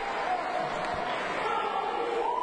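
A wrestling crowd roars steadily as Liam Thomson launches himself in a dive at Carl Conroy, a dense sustained cheer filling the arena with no clear break throughout.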